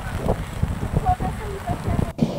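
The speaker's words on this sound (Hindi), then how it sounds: "बीते एक पखवाड़े से कोंडागांव जिले में लगातार बारिश हो रही है।" Steady, dense monsoon rain falls in Kondagaon district, Chhattisgarh, amid days of flooding, a continuous hiss with scattered patters beneath someone narrator's voice.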